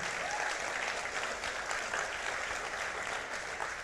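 Church congregation applauding during a Sunday sermon, a steady dense wash of many hands clapping at moderate distance, sustained evenly throughout with no voices on top.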